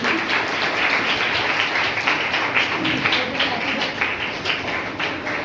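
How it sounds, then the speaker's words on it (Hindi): Guests at a church-style birthday celebration clap steadily and fairly loudly after a children's dance, a continuous dense patter of hands with no pauses. "ताली बजाएंगे"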